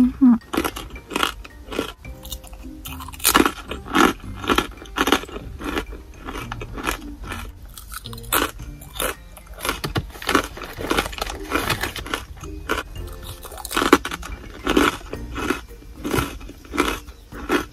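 Crunchy plum-flavoured Muji snack being chewed up close, with loud, rapid, repeated crunching bites and mastication sounds continuing steadily throughout, no talking.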